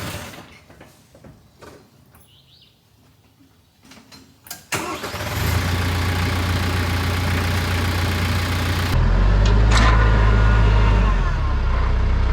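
A tractor engine turns over and settles into a loud, steady idle close by, low and throbbing, with its pitch stepping up partway through. Quieter knocks and rustling come before it.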